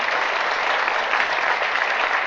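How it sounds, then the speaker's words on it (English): An audience at a spiritual talk in Montréal applauds steadily, a full, even wash of many hands clapping without pause or voices. "You can applaud, yeah."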